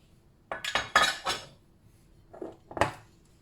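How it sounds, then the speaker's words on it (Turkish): Cutlery scoops mashed-style potatoes onto a plate, making two clusters of close metal-on-ceramic scrapes and clinks separated by a brief pause. No speech is heard. "Şu patatesleri buradan alayım tabağıma."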